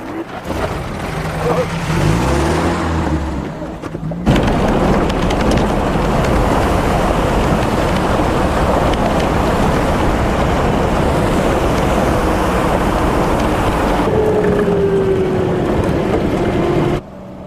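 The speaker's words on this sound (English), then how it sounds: "Our Land Rover soon began to struggle." Land Rover straining up a rough mountain road in the Hindu Kush, a loud, steady roar of engine and rumbling noise with wind buffeting the microphone, preceded by someone speaking.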